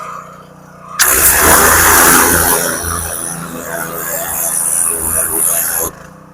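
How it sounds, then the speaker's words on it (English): A 3100 PSI gas pressure washer with a turbo nozzle, spraying an animal hide to strip the flesh, starts abruptly as a loud, steady broadband hiss with engine drone beneath, runs for about five seconds, then cuts off sharply. "3100 PSI pressure washer with a turbo nozzle"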